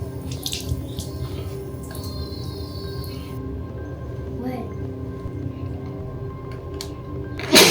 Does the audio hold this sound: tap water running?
yes